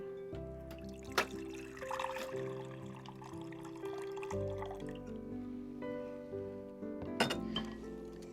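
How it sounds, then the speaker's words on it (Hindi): Water poured into a pan on a gas stove in a kitchen, with light clinks and trickling splashes over a soft, continuous background, fairly faint. "अब इसमें हम पानी डालेंगे।"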